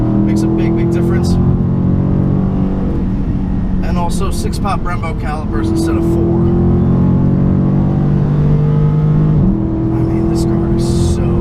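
A 2017 Dodge Charger SRT 392 Daytona with a 6.4L V8 revs and accelerates loudly from inside the cabin, engine tone rising through gears with brief shift dips, while someone talks over it.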